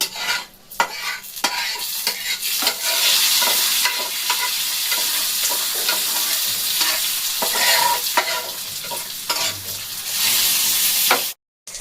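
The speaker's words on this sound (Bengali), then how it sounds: "আমি যে ভেজে রেখেছি পাঁচফোড়ন, রাঁধুনি, তেজপাতা, শুকনো লঙ্কা এখানে দিয়ে দেবো।" Whole five-spice, radhuni, bay leaf and dried chillies hit a hot pan and fry, giving a loud, continuous sizzle with scraping and stirring clinks close by.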